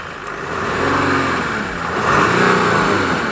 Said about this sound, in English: through my ears, this engine sounds absolutely sweet